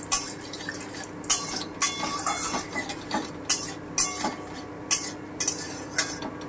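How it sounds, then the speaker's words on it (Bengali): Crushed whole cloves, cinnamon and cardamom frying in hot oil for egg tadka, with a spoon scraping and clinking against the pan in irregular bursts over a low sizzle, close and fairly quiet. "এবারে আমি এতে গরম মশলাটা দিয়ে দিচ্ছি, থেতো করা লবঙ্গ, দারচিনি, এলাচ।"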